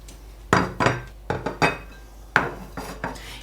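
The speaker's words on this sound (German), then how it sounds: "indem ich hier 4 kleine Teller und 4 kleine Schälchen aufstelle" Small ceramic plates and bowls set down one by one around a cooking pot, giving a series of about eight distinct clinks and clatters at close range with short pauses between them.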